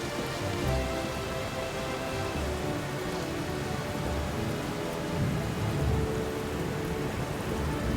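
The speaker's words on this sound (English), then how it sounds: "The storm raged on, and only seemed to get worse as they traveled on" A raging storm at sea brings dense, steady rain and deep rolling thunder, a thick continuous wash of noise with low rumbles swelling now and then, no voices.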